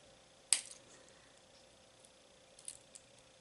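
A wire cutter snips beading wire while making a beaded fan pull, giving one sharp, close click followed by a few faint small clicks and rustles of handling against a quiet room.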